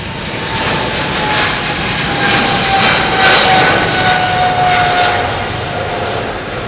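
An airplane passing at London Heathrow makes a loud, broad engine roar that swells to a peak midway and then eases off, with a faint whine riding over it.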